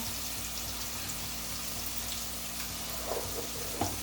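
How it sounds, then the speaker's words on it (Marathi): Prawn (kolambi) masala fries in a pan with a steady low sizzle as it is stirred and roasted. Occasional scraping clicks come near the end, and no one talks. "आता आपण मिक्स करून घेऊया, सगळं भाजून घेऊया"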